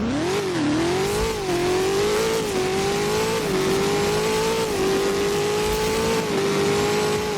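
An SSC Tuatara Striker engine in the Driving Empire racing game revs loud and continuously, its pitch rising and dipping through repeated throttle blips and gear changes with a steady, close, in-game drone throughout.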